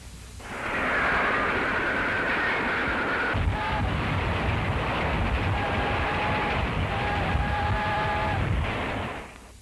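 A train rumbles along the rails in a continuous loud roar, with metallic squeals and clanks rising over the steady rolling noise.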